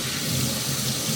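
Warm tap water runs in a steady, close stream to wet a simple sponge, an even splashing hiss with no voices over it.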